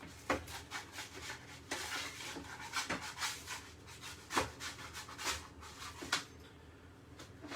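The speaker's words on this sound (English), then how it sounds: "I'm just going to use a spatula actually just to loosen that." A spatula scrapes and rubs under homemade pizza dough in a pan, giving repeated short scuffing strokes in an uneven rhythm, close and fairly quiet.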